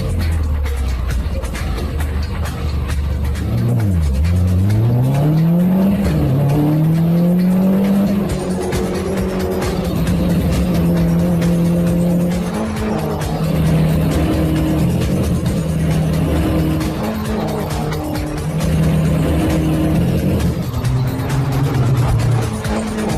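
Mini Cooper race cars roar around a track at full throttle, engines loud and close with rising and falling revs and tire squeal as one car spins out, the pack's drone continuing steadily throughout.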